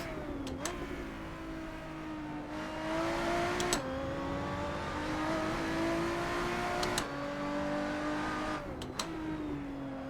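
A supercharged Lotus 3-Eleven racing around Brands Hatch in Assetto Corsa, its engine droning loud and close and climbing in pitch through each gear, with brief sharp breaks at the shifts and no talking.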